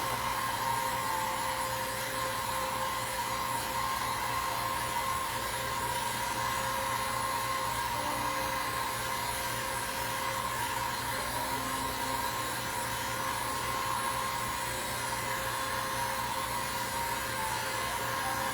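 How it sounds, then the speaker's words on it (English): A hair dryer runs steadily and close by, blowing air to dry a styrofoam craft piece for a farmhouse kitchen project, with an even whooshing hum and a constant motor whine that holds unbroken throughout. "I'm gonna put the dryer on here real quick."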